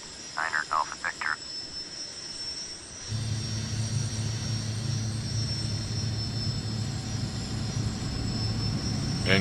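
Small airplane on takeoff from runway 17: after a few short bursts of radio chatter and a brief hush, a steady engine drone with a continuous hum begins and holds loud and level to the end.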